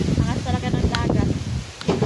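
Strong wind blows by the sea, rushing and buffeting against the microphone in a steady roar, with a voice speaking beneath it.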